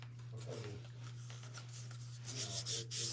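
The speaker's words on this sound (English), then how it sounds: "I'm going to sand the edges in just a second." Sandpaper rubbing along the edges of a painted craft ornament, a steady rasping scrape repeated in short close strokes over a constant low electrical hum, with no talking.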